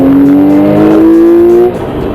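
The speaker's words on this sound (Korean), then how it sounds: "가속 페달을 밟았다가 뗐을 때 이 배기음에서 나타나는 이 섞이는 후화가 굉장히 매력적이고" A Porsche 911 (991) Carrera S engine and exhaust rev loudly and close, holding a steady rising drone that drops off near the end with a faint crackle as the throttle lifts.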